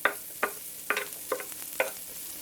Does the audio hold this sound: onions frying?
yes